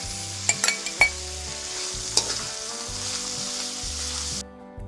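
Celery and carrot sizzle steadily as they stir-fry in a pan, with a few sharp clinks and scrapes of stirring early on, then cut off abruptly near the end; no one speaks.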